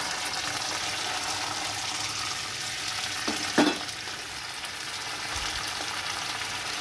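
Cumin seeds fry as a tempering in hot mustard oil in a kadai, a steady close hiss of sizzling throughout with one brief louder crackle near the middle and no talking.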